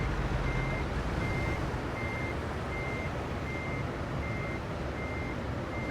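Reversing beeps from a truck backing up in American Truck Simulator: a steady run of evenly spaced electronic beeps over a constant, loud engine rumble, with no talking.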